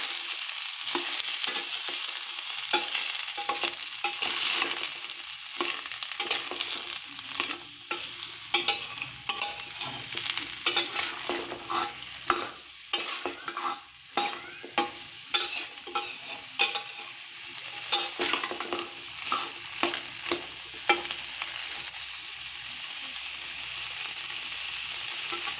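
Onion stalks are stirred and fried in oil in a pan over raised heat, giving a steady close sizzle broken by repeated scraping and clattering from the spatula throughout.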